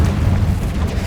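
A Confringo spell explodes in Hogwarts Legacy, a loud, deep, rumbling boom that fills the whole brief moment with heavy low-end roar.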